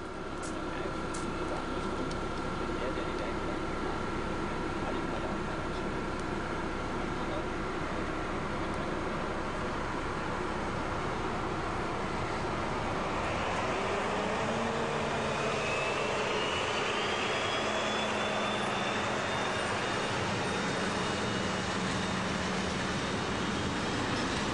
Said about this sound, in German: Lok 201 ist mit einer Übergabe unterwegs.